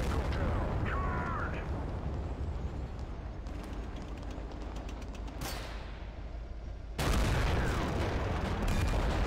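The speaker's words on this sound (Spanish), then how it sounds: "Estamos matando infantería a cañonazos." Heavy tank cannon blasts and rumbling explosions roll continuously through a loud battle in the game Total Conflict: Resistance, with a sharp burst of louder booms near the end.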